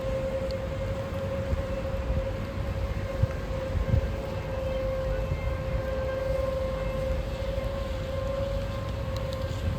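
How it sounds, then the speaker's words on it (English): Civil defense sirens sounding a tornado warning in Janesville, a steady sustained wail heard from a distance over outdoor background noise, with no voices. "I'll go inside when the sirens turn off."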